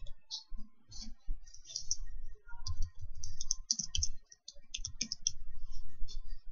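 Computer mouse clicks sound while selecting menus in Microsoft Word 2010, a scattering of light, sharp ticks close by over a faint low background.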